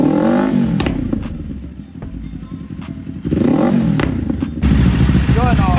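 Kawasaki Ninja 500 fitted with a Zeus Achilles performance exhaust muffler revving close by, with loud rising and falling engine sweeps and a steadier roar at the end.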